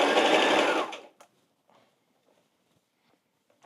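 A sewing machine stitches fabric in a loud, fast, steady run of about a second, then stops, leaving faint handling noises.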